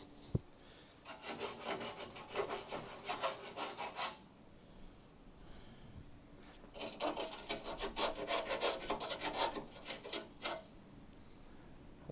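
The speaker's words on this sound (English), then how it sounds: "Let me get the files out so we can fix the burr." Metal file scraping a burr from holes in a car chassis during a Charger restoration, two runs of rhythmic rasping strokes separated by a pause, moderately close and quiet, with no talking.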